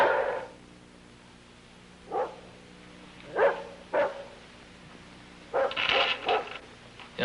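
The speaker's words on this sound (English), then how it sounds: "All I can hear is that darn dog barking." A dog barks in a few scattered, single and double yaps, somewhat distant, over a quiet low background hum.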